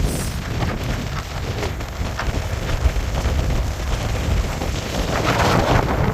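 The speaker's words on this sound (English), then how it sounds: "we got some like 30 mile an hour gusts" Strong wind gusting around 30 mph buffets the microphone on a Catalina 25 sailboat at anchor, a continuous roaring rush with gusty surges, loud and close, no voices.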